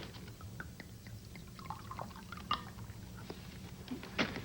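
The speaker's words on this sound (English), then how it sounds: "Want to pour me some?" A drink is poured into a glass, a soft liquid trickle with a few faint clinks in a quiet room.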